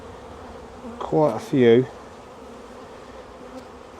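Honey bees buzz around an open hive during a colony merge, a steady low hum in the background, briefly overlaid by a person speaking close by.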